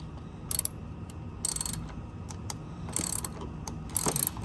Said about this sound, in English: So let's get that bolt out first.